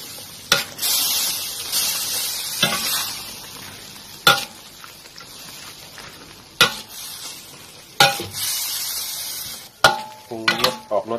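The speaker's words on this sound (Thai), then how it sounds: "ผมไปผัดเลยครับตามด้วยน้ำมะขามเปียกนะครับแล้วก็ด้วยน้ำมะขามเปียกนะครับใส่พริกหยวกลงไปนะครับ" Soybean paste is stir-fried in a pan with tamarind water and sweet bell pepper, giving a steady sizzle broken by sharp, repeated scrapes and clanks of a utensil against the pan.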